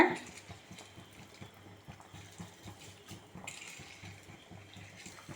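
Soaked rice is drained and tipped into a pot of boiling water while making ghee rice in a home kitchen, giving a faint, continuous watery pouring and splashing with low bubbling underneath, heard alone at moderate distance.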